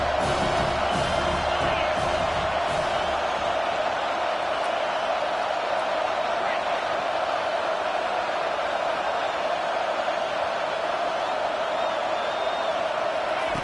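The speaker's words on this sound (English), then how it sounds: "Decibels rising as the crowd gets behind this defense on third down." A football stadium crowd roars on third down in a sustained, dense wall of cheering, loud and unbroken, with broadcast commentary faintly underneath.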